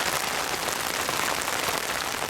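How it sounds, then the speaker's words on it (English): Heavy rain pours onto a tent in a dense, steady hiss of drops, loud and close with no pauses or voices. "it's just pouring down rain"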